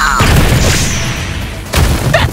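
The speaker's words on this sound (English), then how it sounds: "G-Men fire synthetic lasers!" Laser blasts fire in a Skibidi Toilet animation battle, a dense, loud burst of booming, crackling shots that drops away briefly and then returns.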